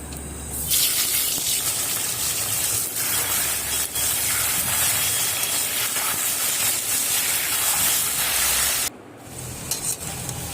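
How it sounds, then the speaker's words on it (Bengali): Elephant foot yam pieces frying in oil in a wok, giving a loud, steady hiss and sizzle close up with occasional stirring, dropping off sharply near the end. "দিয়ে ওলটাকে আমি ভালো করে ভেজে নেব।"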